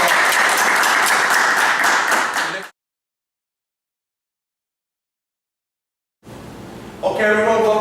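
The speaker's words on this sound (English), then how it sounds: "Okay, one more round of applause." A crowd claps during an interview event, a brief burst of applause that cuts off abruptly into silence, then a voice starts speaking as the sound returns.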